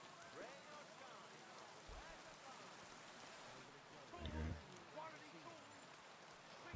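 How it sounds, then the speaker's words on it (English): Steady video-game rain hisses softly throughout, mixed with murmuring background voices and a few brief low thumps. "And the rain's back."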